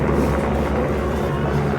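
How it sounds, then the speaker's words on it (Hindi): A helicopter lifts off from the Himkoti-area helipad on the mountain route to Vaishno Devi, producing a steady, continuous low engine and rotor drone at moderate distance with no pauses. "अभी एक हेलीकॉप्टर आई है"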